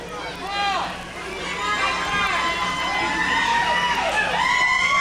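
A wrestling crowd at a steel cage heavyweight championship match cheers, shouts and whistles in a loud, sustained roar that swells and keeps going throughout.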